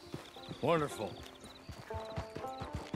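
In the Red Dead Online game, a horse whinnies loudly, then its hooves clop in a steady rhythm close by, while someone speaks briefly.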